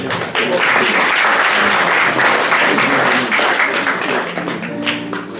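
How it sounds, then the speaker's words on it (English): A crowd at a funeral gathering gives a loud, dense round of applause that starts abruptly and holds steady for about five seconds, with faint voices mixed in near the end. "Please give them a round of applause."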